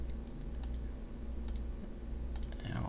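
Mouse and keyboard clicks tapping out cuts around a circle in 3D modeling software, a series of light, sharp, irregular clicks up close over a steady low hum, with no talking.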